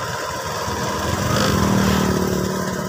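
A Honda Vario 125 scooter engine, fuel-injected and emitting white exhaust smoke with dripping water, runs steadily at a fast idle near its exhaust, a continuous buzzing drone that swells slightly midway, with no talking.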